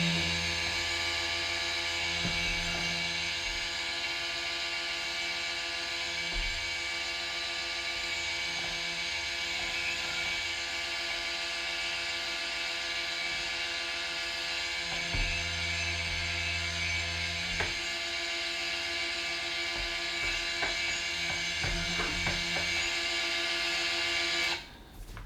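A stick blender whirs steadily through cold process soap batter for a Christmas ombre soap, a continuous motor drone with a buzzing tone that holds level for about twenty-five seconds before cutting off at the end.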